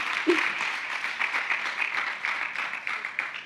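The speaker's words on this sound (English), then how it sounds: "You got a round of applause." Audience applause follows a discussion of the climate change problem, a steady wash of many hands clapping that holds at moderate level, fairly close, for a few seconds with no talk over it.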